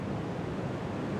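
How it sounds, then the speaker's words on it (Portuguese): Sea waves wash on the shore in a continuous broadband roar, steady and fairly loud, with wind buffeting mixed in and no distinct breaks. "E hoje eu posso ver o mar"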